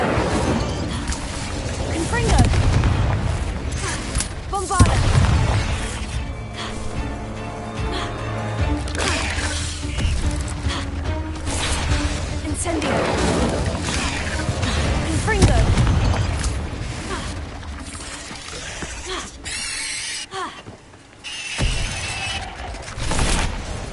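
Hogwarts Legacy spellcasting in combat, with Incendio and Confringo fire spells producing repeated booms, bursts and crackling blasts layered with loud game effects and voices throughout.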